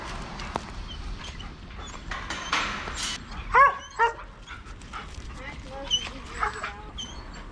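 Harley the dog whimpers and gives a couple of short yelps or barks from inside his new kennel, with two brief louder bursts in the middle over rustling and scattered knocks.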